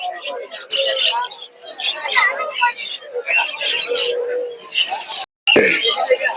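Budgerigars chirp and twitter busily amid a crowded, bustling bird market in Narsingdi, with people talking nearby throughout.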